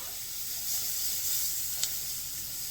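Shrimp dusted with five-spice powder sizzles steadily in a hot pan as it is stirred, a soft continuous frying hiss with one brief sharper spike partway through, no voices.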